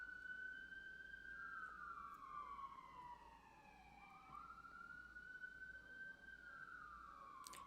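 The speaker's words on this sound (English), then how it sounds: "Just gonna wait for the siren to pass." An emergency vehicle's siren wails past at a distance, its tone sweeping slowly down and back up over steady background hum, fairly faint and with no voices.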